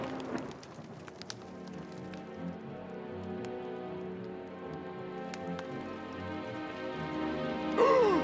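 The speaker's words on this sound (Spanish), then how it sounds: "¡Llueve a cántaros!" Heavy cartoon rain pours down steadily in a children's animated series, a dense continuous hiss of drops on surfaces with no talk, slightly louder near the end.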